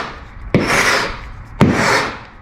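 Hand scraper rasps across old bottom paint on a sailboat hull in two long, steady strokes, each starting with a sharp bite and fading out, close and loud with no talking.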